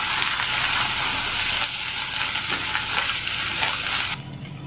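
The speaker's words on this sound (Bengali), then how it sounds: "অল্প একটু ভাজা ভাজা হলেই বেটে নেওয়া পাতাগুলো আমি এর মধ্যে দিয়ে দিচ্ছি" Ground bottle gourd leaves frying in oil with onion and green chilies, a loud, steady broadband sizzle with light stirring that drops slightly near the end, with no one speaking.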